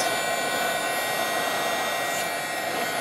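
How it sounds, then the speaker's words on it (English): A heat gun blows a steady, loud hot-air roar while melting fusible webbing for a fabric tag, an even rushing hiss with no pauses and no voices. "I'm just going to grab my heat gun again. And right away it starts to melt."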